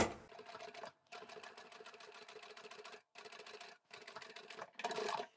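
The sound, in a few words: sewing machine restitching a cushion cover seam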